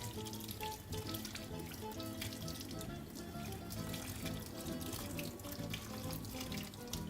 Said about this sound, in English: Let's proceed to rinse those under the tap.